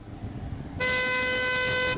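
A bicycle-mounted compressed-air horn blasts in German street traffic, starting abruptly after a low road rumble and holding one loud, steady, brassy tone to the end.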